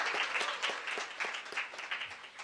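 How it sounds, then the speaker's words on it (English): Lecture audience at a Pima Community College event marking the birth of Chicano Studies, giving a modest round of applause: sparse, loosely rhythmic clapping from a smallish crowd, fairly faint and somewhat distant, with no talking over it. "Let's give it a good applause."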